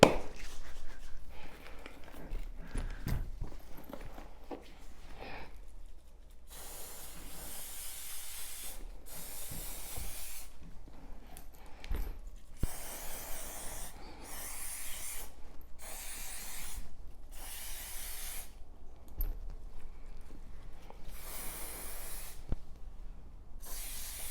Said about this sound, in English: So we'll go ahead and spray.